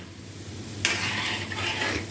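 Gulab jamun frying in hot oil, a steady close sizzle that swells sharply partway through as they are stirred and turned with a spoon, with no one talking.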